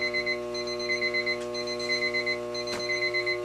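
A ringing alarm clock beeps in steady repeating bursts, with several tonal layers sounding together and a couple of short clicks or knocks partway through. The ringing is loud and close, and no one speaks over it.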